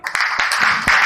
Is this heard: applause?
yes